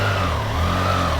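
A Triumph Trident 660 motorcycle on its stock exhaust, a loud, steady low engine rumble with a slight shift in pitch partway through, heard alone.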